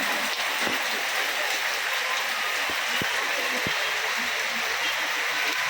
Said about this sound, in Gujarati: આજે વરસાદ ચાલુ થઈ ગયો છે ફરીથી